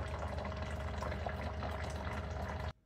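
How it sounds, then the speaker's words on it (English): Hot water pouring steadily from a water filter into a cup, a continuous soft rushing stream that stops abruptly near the end. "And that's hot water coming out into the cup."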